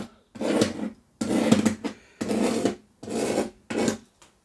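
Five rhythmic rasping strokes of a tool scoring marks into a wooden Yamaha F310 guitar bridge, each about a second long with brief pauses between, close and fairly loud.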